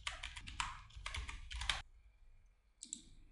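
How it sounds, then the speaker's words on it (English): Computer keyboard typing in quick close bursts of keystrokes, followed by a pause and one more short tap near the end. "hit F2 on the keyboard and let's call it texture"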